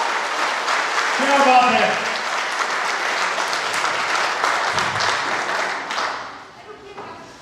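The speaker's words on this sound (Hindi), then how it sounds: "जबरदस्त ताली सत्येंद्र सर के लिए" An audience claps loudly for Satyendra sir at a gathering, a dense burst of applause that holds steady and fades near the end, while a voice speaks briefly over it.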